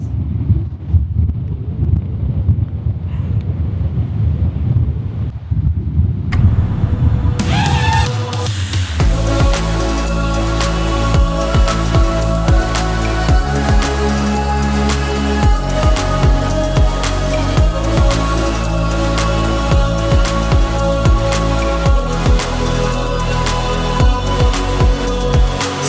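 Strong wind over the open ocean buffets a microphone, first as low rumbling gusts, then as a dense, loud, steady roar that continues to the end.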